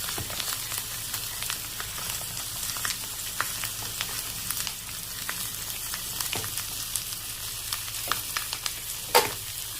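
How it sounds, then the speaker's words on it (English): Whole chicken searing breast side down in a hot pan: a steady, close crackling sizzle of frying fat with scattered sharp pops, continuous and even, with no talking. "I'll put the breast side down. Oh, that sound."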